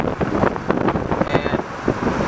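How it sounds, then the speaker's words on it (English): Steady rushing wind buffets the microphone, with a low road rumble underneath, from a BMW M Roadster moving at speed. "it just starts to get a little windy"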